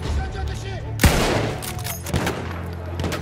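A single sharp rifle shot in Battlefield 1, a First World War shooter, cracks loudly amid battlefield rumble and distant scattered fire, followed by another softer report about a second later.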